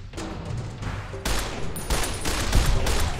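Rapid bursts of gunfire in Fallout: New Vegas, loud and dense after about a second, with repeated shots crackling over a noisy battle backdrop and no talk.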